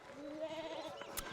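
A sheep bleats in the video game Pentiment, one wavering, drawn-out bleat at moderate level, with a brief click near the end.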